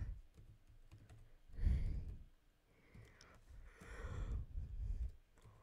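Computer keyboard typing in bursts of soft clicks during an online game session, with breathy sighs mixed in and no talking.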